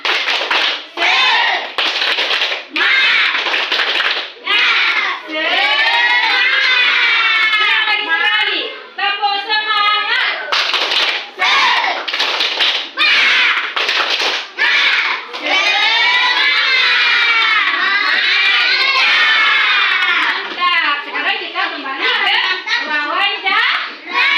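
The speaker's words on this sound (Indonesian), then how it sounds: "tepuk semangat dulu, tepuk semangat." Third-grade primary school children do a spirit clap together in a quick rhythmic pattern, mixed with their excited chanting and shouting in a lively, close-up group.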